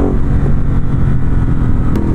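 2019 Ducati Hypermotard 950SP with a 939 cc engine and an aftermarket Termignoni exhaust with baffles in, revving with a loud, close, deep low rumble that holds steady throughout, with no voices.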